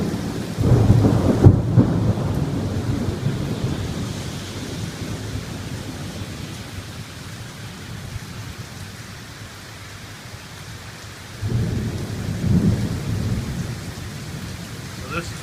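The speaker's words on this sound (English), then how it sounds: "You can hear that thunder everywhere." Steady rain pours through a thunderstorm as deep rolls of thunder rumble in, one loud near the start and another later, under constant rainfall.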